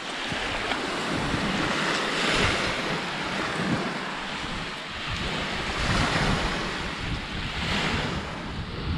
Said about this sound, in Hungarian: Előttem a tenger.